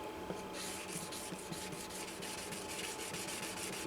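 Wet sanding of a Gibson J-15 acoustic guitar finish, using a hard sanding block lubricated with Simple Green, gives a steady rhythmic rasping rub of repeated close strokes, with no one talking.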